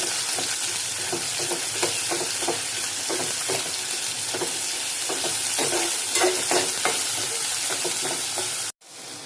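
Garlic paste, grated ginger and onion sautéing in a pan, a steady loud sizzle with repeated scraping stirs, continuing without voices and cutting off abruptly near the end.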